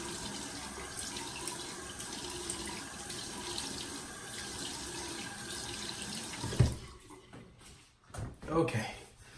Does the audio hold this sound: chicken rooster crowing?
no